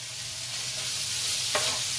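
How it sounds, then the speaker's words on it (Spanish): Bacon frying in a pan over a high flame, a steady close sizzle and hiss running alone throughout, with a brief louder crackle near the end. "ahora vamos a freír"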